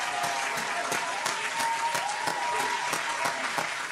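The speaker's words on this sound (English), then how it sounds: "Gotta give him another round of applause." An audience applauds steadily with dense clapping, with a few sharper distinct claps standing out at a loose rhythm and crowd voices mixed in beneath.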